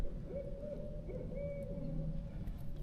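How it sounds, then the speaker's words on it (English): An owl hoots repeatedly in a low, steady series by the Withlacoochee River during an October 2024 flood, fairly distant and soft beneath constant ambient noise. "Can you hear that owl telling me not to be doing this?"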